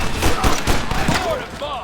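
Repeated gunfire rings out in a Red Dead Redemption shootout, loud and dense bursts of shots layered over each other, with a shouted voice briefly audible amid the firefight.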